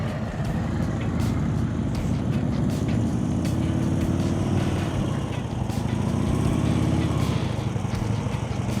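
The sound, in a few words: motorcycle engine at slow speed with inconsistent throttle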